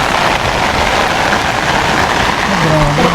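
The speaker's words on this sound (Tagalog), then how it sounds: "Sarap ng ulan." Steady rain pours down in a dense, constant hiss, with voices faintly talking underneath.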